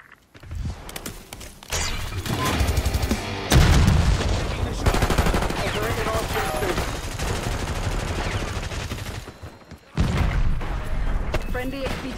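Bursts of automatic gunfire and loud shots fill a Black Ops 6 firefight at extreme graphics settings, rapid and close with booming hits, while game voices call out over the shooting.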